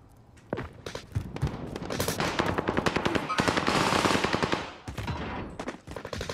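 Loud bursts of automatic gunfire in Call of Duty Warzone Resurgence on the Rebirth map, rapid cracking shots in quick succession that build into a sustained volley before tapering into scattered single shots.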